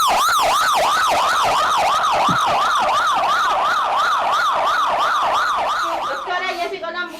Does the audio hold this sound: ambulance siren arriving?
yes